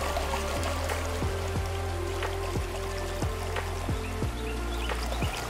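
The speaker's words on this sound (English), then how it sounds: "Incline your pan and float water in and out without moving the bigger pieces of your content." Water washes in and out of a tilted gold pan holding sand and gravel, a close, steady sloshing and trickling with repeated soft splashes in a regular rhythm.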